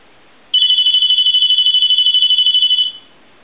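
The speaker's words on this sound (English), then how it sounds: "you're just going to hear a piezo buzzer" A piezo buzzer in a 202 rotary telephone with an E1 handset rings as a steady, shrill electronic tone with a fast pulsing warble. It is loud and close, lasts about two and a half seconds, then stops cleanly.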